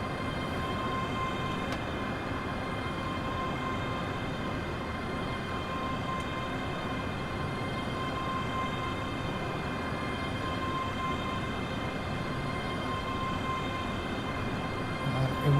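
A passenger train in Train Simulator Classic rolls into Dunblane station toward platform 3, a steady close rumble of wheels and motor with a faint tonal whine, heard alone at even loudness.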